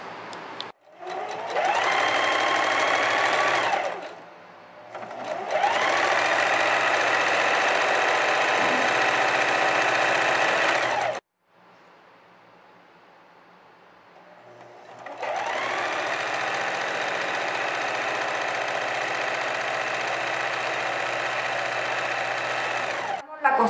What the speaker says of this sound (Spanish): Realizaremos costura con overlock dejando un centímetro.